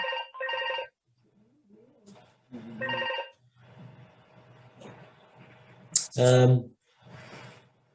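A telephone rings in repeated bursts during a gliding club's winter talk, sounding over and between a man's ongoing speech and light background noise.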